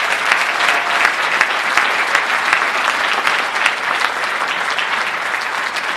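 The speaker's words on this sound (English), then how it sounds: "Let's give them a nice round of applause." An audience at a mayor's State of the City address gives a sustained round of applause, dense and loud with steady clapping from start to finish and a faint murmur of voices beneath.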